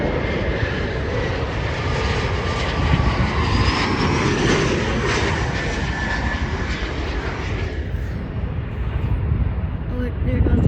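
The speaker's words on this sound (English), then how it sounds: "there goes the E-175 just taking off" An Embraer E-175 jet takes off at SeaTac airport, its engines roaring loudly and continuously before easing slightly near the end.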